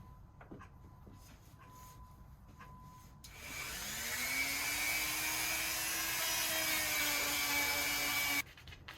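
A cotton buffing wheel spins up and polishes a plastic part of a Dunlap hand drill, a loud steady motor whine and rushing hum that rises in pitch and holds for several seconds before cutting off abruptly.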